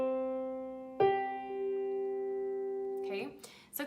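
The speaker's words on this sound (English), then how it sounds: "And here is the sound of a fifth." A fifth played as two held tones: a lower note sounds alone, then a second note enters and rings with it, steady and close, before a voice starts speaking at the end.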